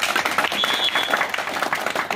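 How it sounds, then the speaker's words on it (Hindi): A crowd at a youth chaupal gathering in the ancient Hanuman temple at Rajokari BSS Camp bursts into loud, dense applause that holds steady for about two seconds, with no one speaking over it. "तो ऐसी पार्टी के लिए हम जोरदार तालियां बजाएंगे।"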